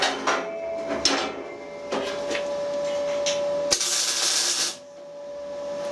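Tack welding on a steel welding table: short hissing, buzzing arc bursts with a sharp click or two, one louder crackling burst near the end, close with faint background hum.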